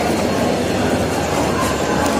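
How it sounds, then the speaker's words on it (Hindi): A Chandigarh–Amritsar train at a station platform gives a steady, loud rumble of rolling railway cars that continues without a break, with no talking. "फाइनली हम ट्रेन तो आ चुकी है"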